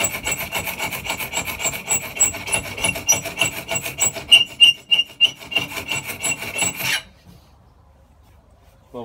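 A hand scraper is drawn repeatedly across a wooden surface to level a high spot near a knot, giving a rapid series of close, dry rasping strokes that stop abruptly, leaving near silence.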